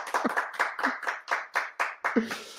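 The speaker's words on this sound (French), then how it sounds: "Applaudissements. Applaudissements pour Anna." Hand claps ring out alone, about ten distinct, fairly close claps at an uneven, slightly slow rhythm, each a sharp crack that decays quickly.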